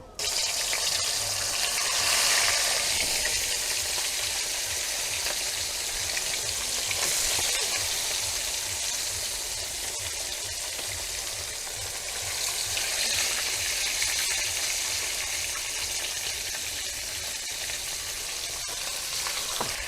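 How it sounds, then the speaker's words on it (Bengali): Katla fish fries in hot oil in a wok, giving a steady, loud sizzle and crackle that runs unbroken for the full twenty seconds, with faint stirring or watery sounds mixed in. "তেল আমার গরম হয়ে গেছে এবার আমি একে একে মাছগুলো ভেজে নেব"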